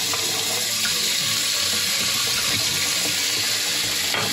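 Steady running water from a tap splashes over a glass beer bottle as it is rinsed out, a continuous broadband rush close to the microphone with no talking.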